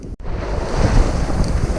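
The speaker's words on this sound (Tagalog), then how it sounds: "Ayan, lakas ng alon." Strong sea waves surge onto the shore at Malabago, Santa Cruz, Zambales: a loud, continuous rushing roar with heavy wind buffeting the microphone and no talking.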